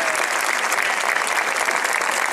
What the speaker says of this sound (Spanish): Un aplauso muy fuerte, por favor.